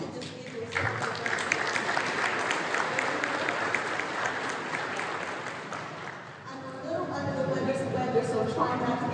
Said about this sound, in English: I just want to pause so that we can give you all a round of applause